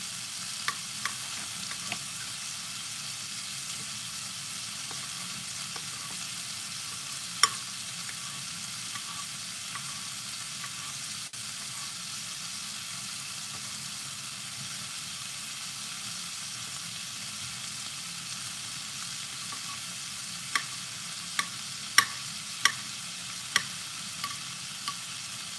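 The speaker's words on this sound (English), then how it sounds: "see how it's stir frying up" Sausage sizzles and fries steadily as it is stir-fried in a pan, with occasional small pops and clicks of stirring, close and even throughout.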